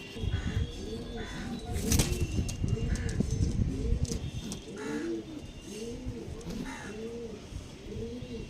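A pair of Andra show pigeons coo over and over in a steady, rolling rhythm, close by and clear, with faint background noise and no talking.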